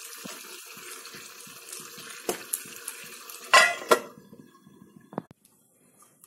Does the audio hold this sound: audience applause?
no